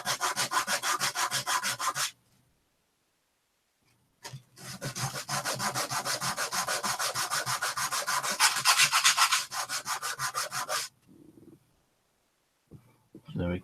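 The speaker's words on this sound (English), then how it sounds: "you can use your sandpaper and rub it down the place well" Sandpaper rubbing down a small wooden piece for a miniature table, loud rhythmic back-and-forth scraping strokes in two long bursts separated by a pause, with a few short strokes near the end.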